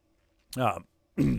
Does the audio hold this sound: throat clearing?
yes